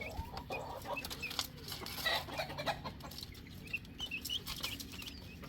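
Several mother hens cluck and chatter softly with their chicks in a sheltered coop, a busy mix of short clucks and peeps at moderate distance, with no voices.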